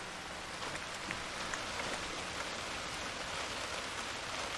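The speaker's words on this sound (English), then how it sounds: "It's raining." Steady rain falls in the military shooter Arma 3, a continuous even hiss of drops with occasional louder patters, no voices.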